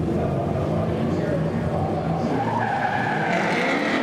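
A Mazda RX-7 drift car slides through a drift competition at Baypark Stadium, its tires skidding and squealing in a loud continuous roar over engine noise, with a commentator talking over it.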